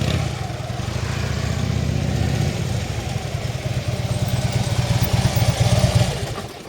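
Motorcycle engine running steadily and close while pulling through a right turn from a stop, a low, even rumble with slight rises in revs toward the end.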